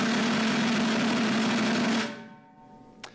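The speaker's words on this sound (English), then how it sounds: "If you pinch the stick and force the roll, it sounds like this." A snare drum roll forced with a pinched stick gives a harsh, dense buzzing rattle that holds steady for about two seconds. It then stops, leaving a short ringing decay and one faint tap.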